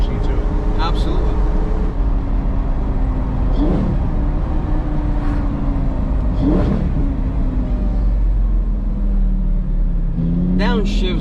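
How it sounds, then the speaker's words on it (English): A 2004 Lamborghini Gallardo V10 drones steadily at close range from inside the cabin, its engine pitch rising and falling through several downshift blips, with a person talking over the mechanical hum. "Downshifts are nice in these V10 Lamborghinis."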